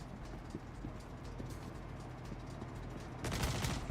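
Star Citizen gunfire sounds as a quiet, distant patter of scattered shots, with a louder, closer burst near the end.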